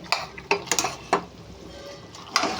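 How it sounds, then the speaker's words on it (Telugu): Mango chicken being stirred in a cooking pot, a spoon knocking and scraping against the metal in a handful of sharp clinks, sparse and close, with quiet gaps between strokes. "ఒకసారి ఇది కలుపుకుందామండి"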